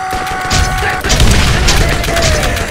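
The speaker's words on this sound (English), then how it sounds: "My fists are exploding." Explosive punches landing in the video game Borderlands, a run of loud booming blasts over a constant game soundscape, with a player's voice talking over the action.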